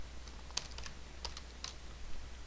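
Typing on a computer keyboard, with a few sparse, soft key clicks over a steady low hum and background hiss in a quiet room.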